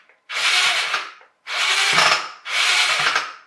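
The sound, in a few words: Robot Wars Shunt radio-controlled toy axe mechanism with broken gear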